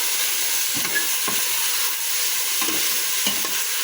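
Pork sizzles in a pot for sinigang while being stirred, a steady hiss broken by several soft scraping stirs at an even pace.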